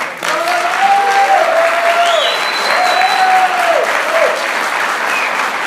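A congregation at a church service breaks into sustained applause, a thick, even roar of clapping that carries on throughout, with a voice briefly calling out over it.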